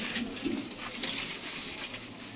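Low, rolling coos from several pigeons on a rooftop loft stand come close and clear in a few repeated phrases, with faint bird chatter around them.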